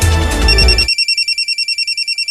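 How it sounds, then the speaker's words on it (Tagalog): A cellphone rings with a rapid electronic pulsing ringtone, steady repeated beeps heard clearly after a burst of loud background noise cuts out. "Oh, ang cellphone ni Adora. May ring."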